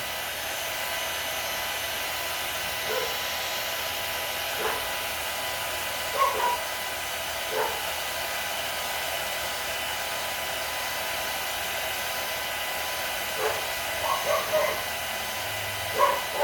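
A blow dryer roars steadily and close while drying a painted bumble bee vase, its broad whoosh never letting up. A dog yips faintly a few times underneath.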